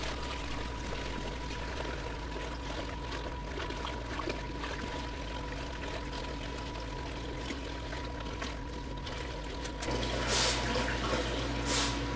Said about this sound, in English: we've been siphoning that sand